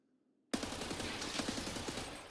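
Gunfire in Escape From Tarkov: after a moment of near silence, a loud, close automatic burst erupts abruptly and keeps rattling in a fast, steady stream to the end.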